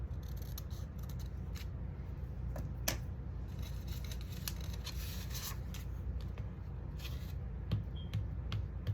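Scissors snip a small white piece with a series of faint, crisp clicks at close range, irregularly spaced over a quiet hiss.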